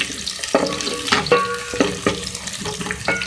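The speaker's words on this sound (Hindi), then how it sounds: "अब इसमें ऐड करूँगी 1/2 टीस्पून राई, अजवाइन है 1/2 टीस्पून। तो फ्राई करेंगे।" Mustard seeds and carom seeds frying in hot oil for dal, a close sizzle broken by repeated sharp pops and scrapes at uneven intervals, no talking.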